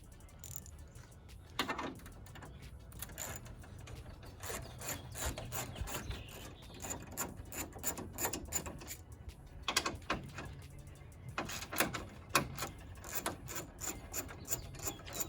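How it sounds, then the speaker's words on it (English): Grille clips are pried off a 2016 Chevy Silverado, giving a run of sharp plastic clicks, snaps and scraping rubs in irregular bursts, fairly quiet and with no talking. "there's gonna be clips behind the grill. You're just gonna want to pry back"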